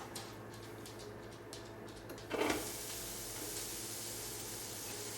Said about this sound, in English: let me get these onions in here